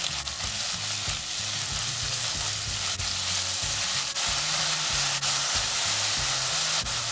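Sliced onions sautéing in a pan for Afghani Kabuli pulao, a loud, steady sizzle close up with rhythmic stirring scrapes and a few sharp utensil taps.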